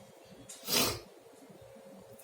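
One short, breathy burst like a cough or snort stands out close by, over a low background murmur.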